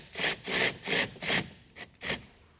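Six quick scraping, ratcheting strokes in an even rhythm, close and fairly loud, as a fuse terminal in a Tesla Model Y frunk gets tightened, the last two strokes shorter.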